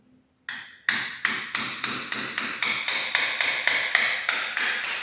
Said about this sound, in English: You have brother chisel you can use, guys, to do the work a bit faster, but this is just a 3/4. chisel.